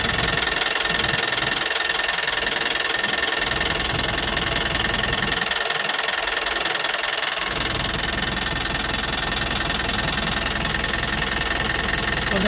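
A coach van's engine idles close by, a constant low rumble with a faint rhythmic knock running underneath, no voices.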